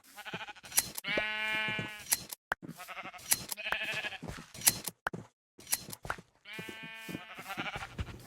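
Sheep in Minecraft bleat in three bursts of wavering, nasal cries, each roughly a second long, loud and close, with brief clicks of shearing between them.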